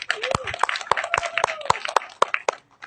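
Audience members at a film press conference clap in scattered, sharp individual claps, near and fairly loud, while a voice speaks between them.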